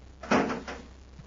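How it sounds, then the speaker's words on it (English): The door of a small miniature spaceship swings shut with a short dull thump and a softer second knock, close and isolated. "Shut the door and shove off."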